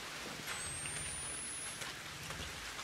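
Steady rain hisses evenly throughout in the video game Outlast 2, a soft continuous wash of falling water with no voices.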